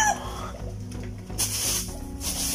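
Heritage chickens cluck in their housing on a farm, a few short clucks and fowl calls scattered over a low hum and rustle, fairly close with brief noisy bursts.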